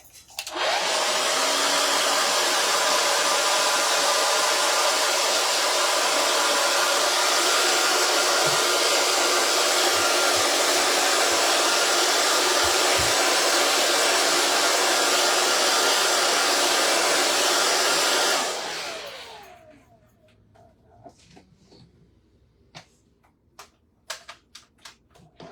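A hair dryer blows on a craft picture, a loud steady roar running for about eighteen seconds before switching off, followed by quiet tapping and light handling noises.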